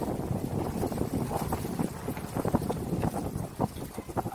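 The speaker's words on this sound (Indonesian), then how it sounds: "Anginnya kenceng." Strong wind gusts buffet the microphone at sea during fishing from a bagan platform, a constant rough rumble with irregular thumps and flutters, loud and close, with no voices.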